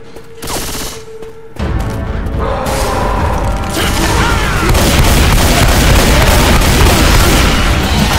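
A grenade blast in the zombie shooter Left 4 Dead 2 sets off a sudden loud boom at about 1.5 seconds, followed by sustained crashing rumble and rattling gunfire that stays dense and loud to the end.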